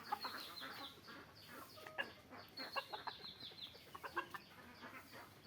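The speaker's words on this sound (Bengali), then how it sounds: "আমার এখানে আছে 50টা মুরগি।" Chickens on a small farm of about fifty hens cluck in a steady, overlapping chatter, with several close, sharper calls rising above the busy flock murmur throughout.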